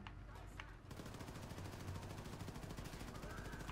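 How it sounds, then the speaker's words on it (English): Enemy gunfire in the shooter game Wolfenstein II: The New Colossus, a dense run of rapid automatic shots after a brief quieter start, continuous and fairly loud. "Damn, they're shooting my friends and shit."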